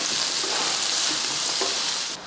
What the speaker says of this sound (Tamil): எண்ணெய் காஞ்சதுமே ஒரு பெரிய வெங்காயமும் அப்புறமா கொஞ்சம் கருவேப்பிலையும் சேர்த்துடலாம்.